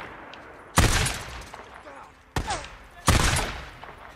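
Loud gunfire in the video game Days Gone: three sharp, heavy shots at uneven intervals, the last two close together, each with a brief ringing tail over a low background.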